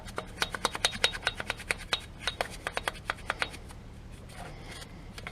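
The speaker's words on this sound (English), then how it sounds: "And using a brush, you just rub in between the spokes." A brush scrubs between the spokes of an alloy wheel during cleaning, giving quick, crisp bristle strokes in a fast, uneven rhythm that thin out and fade toward the end.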